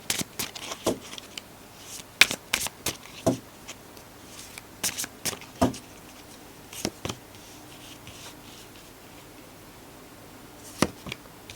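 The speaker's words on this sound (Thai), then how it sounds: "ขอไพ่สักสี่ใบนะครับ" Tarot cards being shuffled and drawn at a table, a scattered run of soft papery flicks and taps, close and fairly quiet with no talking.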